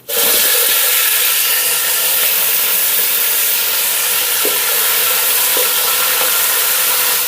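Steady, loud sizzling of onions, tomatoes and green chillies frying in hot oil, a continuous crackling hiss with a few faint clinks, no voices.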